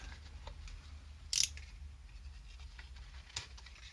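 Scissors trimming excess paper during a scrapbooking craft, a quiet snip near the middle and another faint cut toward the end over low room noise.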